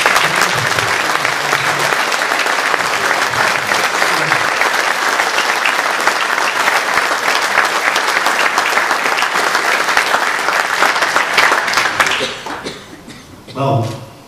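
Sustained applause from an audience gathered for a talk on the Avro Vulcan XH558, steady and dense for about twelve seconds before tapering off with a few murmurs and chuckles.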